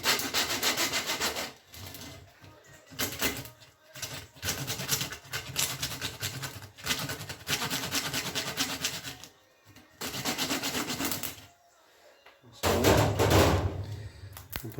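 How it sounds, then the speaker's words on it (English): A long hand saw cutting through a lamb carcass during a butchery session, rhythmic back-and-forth rasping strokes in bursts separated by short pauses, close and fairly loud. "It's always a good idea when using a saw like this as well."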